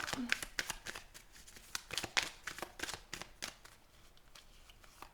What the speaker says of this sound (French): Je vous fais un petit tirage en croix.